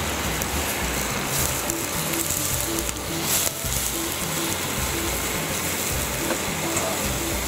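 Mushrooms sizzle and crackle in foaming butter in a pan, a dense, steady frying hiss with quiet scraping, near and continuous with no talk.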